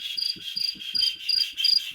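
A voice imitates cricket chirping with a string of quick, high, trilling pulses repeated in a steady rhythm for about two seconds, close and fairly loud with no other talk.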